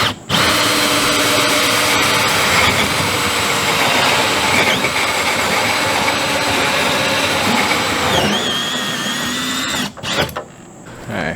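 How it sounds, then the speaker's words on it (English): A power drill whines steadily, loud and close, as it bores a 4-inch hole through a fiberglass camper wall, with the pitch dipping under load before it stops near the end. "It's drilling that 4-inch hole in the side of a fiberglass side of camper."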